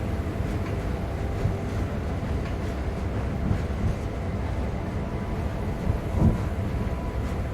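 Train locomotives rumbling in the Train Sim World 3 game while switching cars in Cumberland Yard, a steady low mechanical hum and rolling drone with faint clanks and a brief louder thump near the end, no talking.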